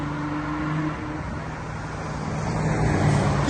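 Cars roll past on a Beverly Hills street, a steady roadway rumble that swells louder toward the end as a vehicle draws near.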